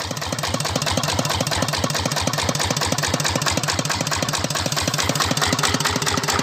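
Kubota 11 HP single-cylinder diesel engine driving an Ebara 6-inch water pump, running steadily with a rapid, even chugging pulse and loud close-up clatter throughout, no voices.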